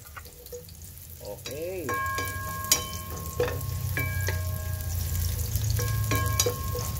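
Chopped onion sizzles in a hot pan with browned pen shell (barong) meat in a rural Camarines Norte kitchen, a steady close frying hiss with scraping stirs, a short spoken word, and faint tonal chirps in the background.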